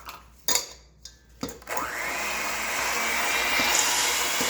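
An electric mixer creams butter and one cup of sugar for a nut cake. A few short bursts come first, then a steady whirring drone runs alone to the end.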